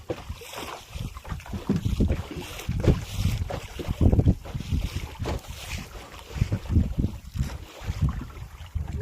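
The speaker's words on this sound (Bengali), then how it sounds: "প্রচুর তুফান হচ্ছে কিন্তু নদীতে" Strong storm wind sweeps across a river during shrimp fishing with a cast net, buffeting the microphone in heavy, irregular gusts and rumbling surges close by, with no speech.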